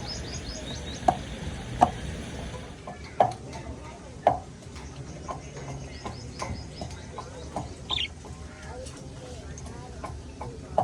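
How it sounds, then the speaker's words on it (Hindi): Ginger and garlic being pounded by hand, with sharp, separate thuds about once a second over a busy household background of voices and chirping. "अभी ये अदरक लहसुन की कुटाई हो रही है।"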